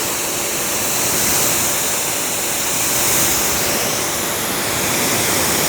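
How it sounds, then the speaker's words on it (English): Water sprays steadily from a QUIVR gun onto a coated test panel, making a continuous broad hiss with no pauses. No one speaks. "Spraying on this beautiful test panel for my Quiver coating."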